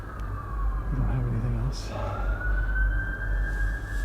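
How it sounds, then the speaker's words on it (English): Police sirens wail steadily in the distance beneath traffic rumble while a person speaks nearby. "What the hell is all those police sirens?"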